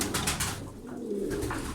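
Smoky-coloured tumbler pigeons coo softly and continuously in a loft, with a low murmuring rumble of several birds close by and no talking.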